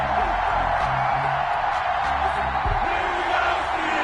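A stadium crowd roars in an EA Sports NFL game before a Cincinnati Bengals versus Pittsburgh Steelers kickoff, a steady, loud wash of cheering that holds for several seconds without a break.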